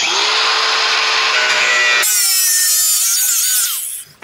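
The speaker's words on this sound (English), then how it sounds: "we're gonna grab the grinder again" An angle grinder cutting the steel tongue of a utility trailer, a loud continuous high-pitched whine that shifts pitch partway through as the disc bites, then winds down at the end.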